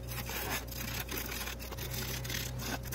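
A skew chisel cuts a pine branch spinning on a wood lathe, a continuous close rasping shear with the motor's steady hum beneath and faint rhythmic pulses from the rotation.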